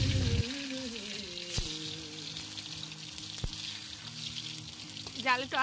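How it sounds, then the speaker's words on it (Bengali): Boiled potatoes fry in very hot oil for a picnic chicken biriyani, a steady close sizzle throughout with a couple of sharp clicks and some faint background voices. "এখানে আলুগুলোকে ভেজে নিচ্ছি।"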